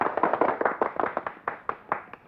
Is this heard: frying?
no